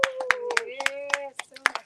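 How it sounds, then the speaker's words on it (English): Hands clap in a short, irregular series of sharp claps during a fire homa ritual, heard under a sustained voice singing or speaking. "Keep clapping."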